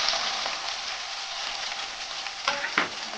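Paneer cubes fry in hot oil in a wok, giving a steady broadband sizzle throughout, with a couple of brief louder crackles or stirring clinks near the end; no voices.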